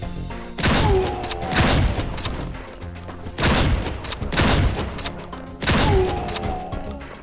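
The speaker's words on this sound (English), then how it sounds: "The shotgun is really nice in this game" Three loud, booming shotgun blasts in the video game A.W.O.L., evenly spaced a few seconds apart, each with a long rumbling tail.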